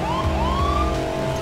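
Loud police sirens in the video game Crackdown wail continuously, rising and falling in overlapping sweeps over a low rumble of traffic.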